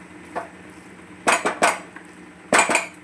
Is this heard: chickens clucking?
no